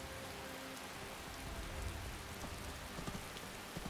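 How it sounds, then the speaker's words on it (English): Steady, loud rainfall in the Skyrim video game, a dense continuous hiss of drops on surfaces with a few brief louder splashes, no talking over it. "Again, that rain's really loud."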